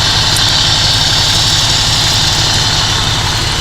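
A fire engine idles nearby with a constant, heavy low drone and a steady hiss above it, with no talking over it.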